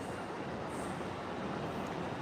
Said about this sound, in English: So that train's way on the other side.